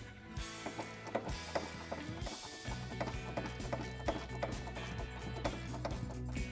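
A ratchet wrench works a bolt loose on a 2021 Ford Bronco, with rapid close metallic clicking in uneven bursts and occasional knocks.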